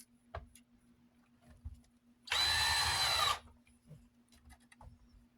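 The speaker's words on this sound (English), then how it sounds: "Let me get my drill out." A power drill drives a replacement screw into a Lasko dual pivot tower fan, one loud whirring burst of about a second, with quiet handling clicks and knocks before and after.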